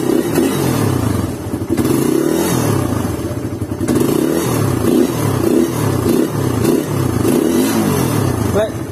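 A motorcycle engine fitted with a camshaft revs loudly close by, the throttle blipped in repeated rising and falling surges over a steady rough idle, with a voice talking briefly underneath.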